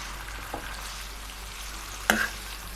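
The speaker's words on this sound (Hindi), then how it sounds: "तो देखिए चिकन हमारा पक रहा है।" Masala-marinated chicken for chicken taka tak frying in a pan, a steady low sizzle with one sharp utensil clack near the end, close and without speech.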